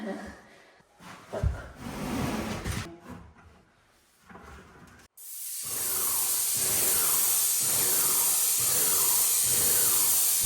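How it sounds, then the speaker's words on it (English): An airless paint sprayer spraying primer onto the walls and ceilings of a small house under renovation. A loud, steady, close hiss starts partway through and continues to the end, after a stretch of muffled handling noise. "we sprayed everything down with primer, and man, did this airless paint sprayer work well"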